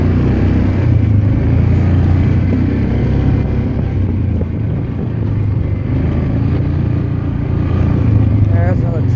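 An off-road vehicle bounces along a four-wheeling trail with a loud, steady low engine rumble, close and continuous throughout, while a person talks over it.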